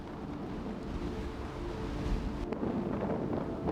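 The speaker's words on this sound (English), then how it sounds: "It's windy. It's definitely windy." Wind buffets steadily and roughly, a constant low rumble with gusts swelling slightly toward the end.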